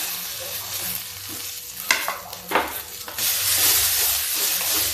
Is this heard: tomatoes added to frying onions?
yes